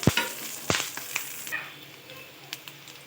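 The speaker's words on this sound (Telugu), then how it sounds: "పచ్చిమిర్చి కరివేపాకు వేసుకొని బాగా ఫ్రై చేసుకున్నాము" Green chillies and curry leaves with onions fry in a pan for chicken curry, giving a soft sizzle broken by sharp stirring scrapes and clinks, close by with no talking.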